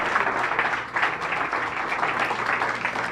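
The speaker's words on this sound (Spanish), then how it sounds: "Dele el aplauso si quiere darle el aplauso al Señor." A church congregation applauds steadily, a dense wash of clapping that holds even for a few seconds without pause.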